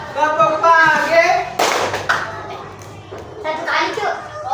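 Fourth-grade schoolchildren perform a class clap routine: a few sharp, loud bursts of group clapping break up spoken instructions and children's voices in a classroom.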